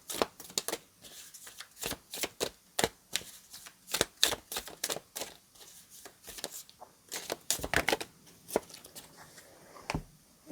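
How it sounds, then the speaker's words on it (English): Tarot cards being shuffled by hand, a quiet irregular run of crisp riffling slaps and flicks, close up and alone, continuing for several seconds. "I have to shuffle them some more"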